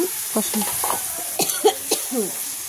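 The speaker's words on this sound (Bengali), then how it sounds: "মাংসটা দিয়ে দিলাম তেল ওঠার পরে" Meat is stir-fried in hot oil in a pan, giving a close, crackling sizzle with scraping stirs and soft knocks across a couple of seconds, while a voice murmurs faintly in the background.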